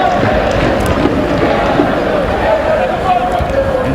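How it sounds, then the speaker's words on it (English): Leeds supporters in the stands at a Schools Champions Trophy final in London make a steady, dense crowd roar and babble, loud and continuous throughout without pause. "That's the Leeds fans who were doing the Poznan."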